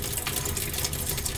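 Water runs from a tap while a Japanese Iromono natural sharpening stone is checked, a soft steady splashing hiss, fairly faint and unbroken.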